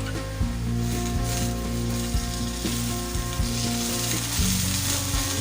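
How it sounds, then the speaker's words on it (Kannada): Okra fries in about two tablespoons of oil in a pan on a high gas flame, producing a loud, dense, continuous sizzle with crackling, accompanied by background music. "ಆಯಿಲ್ ಹಾಕಿದ ನಂತರ 10 ನಿಮಿಷ ಗ್ಯಾಸ್ನ ಹೈ ಫ್ಲೇಮಲ್ಲಿ ಇಟ್ಕೊಂಡು ಫ್ರೈ ಮಾಡ್ಕೊಳ್ಳೋಣ"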